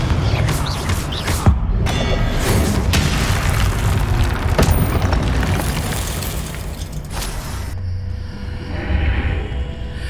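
Confringo blasting spell explosions in the Hogwarts Legacy video game, loud and continuous booming bursts with crashing debris over about ten seconds, ending in a quieter rumble.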